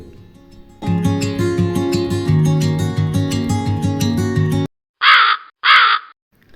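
Music plays for several seconds, then stops, and a crow caws twice in quick succession, loud and close.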